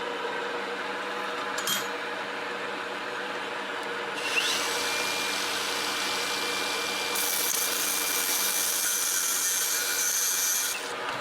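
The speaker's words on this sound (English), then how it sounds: "I take my grinder and I just take the corners off, so that it's got that profile" A grinder takes the corners off a metal part for a homemade paper beater, giving a continuous, fairly loud abrasive whine whose tone shifts twice as the cut changes, with no voices.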